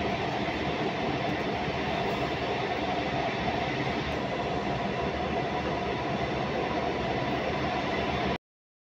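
A passenger train on the Banihal to Srinagar line in Kashmir rumbles along at steady speed, its constant roar and rattling unbroken until it cuts off abruptly near the end.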